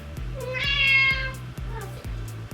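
A house cat lets out a loud, drawn-out meow near the microphone, a single strained yowl lasting about a second amid light background sound.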